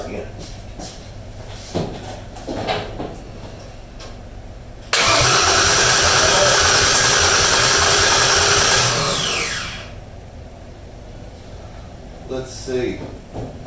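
A 1956 Ford F100 pickup engine cranks on the starter for about five seconds in a loud, steady churning burst, then stops, with quieter clicks and handling sounds before and after.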